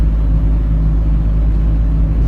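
Off-road vehicle fitted with a coilover suspension kit driving along, a loud steady low engine rumble and drivetrain drone heard from inside, continuous without breaks.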